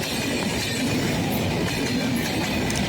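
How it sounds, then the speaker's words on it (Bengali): Khulna-to-Dhaka express train rushing past Daulatpur railway station at speed, a dense steady roar of wheels and carriages with faint clickety-clack, loud and close throughout, no voices. "এটা হচ্ছে আপনার খুলনা টু ঢাকা এক্সপ্রেস।"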